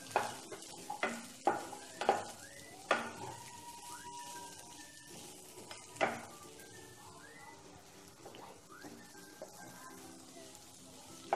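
Onions fry gently in ghee with green chillies for a turmeric paratha recipe, giving a soft, low sizzle. Several sharp scrapes and taps from stirring stand out near the start and fade to quieter crackle.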